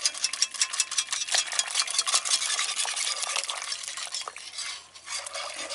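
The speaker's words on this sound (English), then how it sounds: "we start beating that egg into the soup" Egg beaten with a whisk or fork into soup simmering on low heat, a steady fast scraping and swishing that runs for several seconds, fairly close, easing briefly near the end before picking up again.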